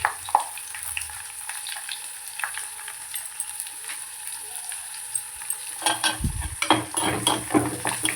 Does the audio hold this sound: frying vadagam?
yes